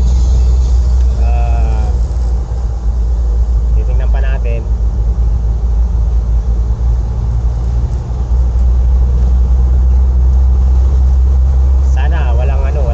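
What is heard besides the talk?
engine of a second-hand car running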